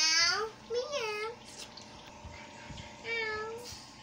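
A voice imitates a cat meowing in a few drawn-out, wavering mews. Quiet running water or other background noise carries on between them.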